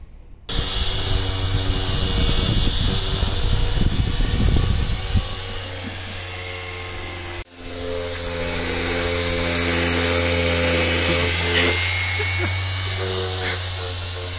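Power sander grinding steadily across a car's floor panel, a loud continuous whir that shifts in pitch, briefly stops, then resumes as a steadier hum.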